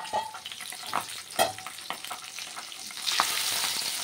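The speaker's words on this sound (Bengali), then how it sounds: "ওদিকে উচ্ছের তরকারি হতে হতে এদিকে মাছ ভাজাও হচ্ছে" Fish pieces sizzle in a frying pan on a home stove, a light crackling fry with scattered pops and spatula taps, the hiss swelling louder toward the end.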